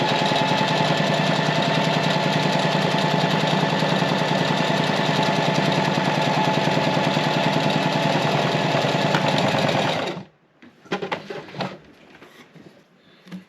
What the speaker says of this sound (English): now let's give this a little sew